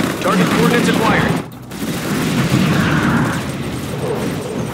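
Heavy battlefield gunfire in the strategy game Command & Conquer 3: Tiberium Wars, Kane Edition: a thick, continuous rumble of shots and booms, with a brief dip near the middle before the barrage surges again.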